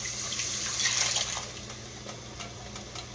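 A cup of water is poured into beef stroganoff gravy in a home kitchen, making a steady splashing and trickling wash that swells briefly and then settles into a quieter stream.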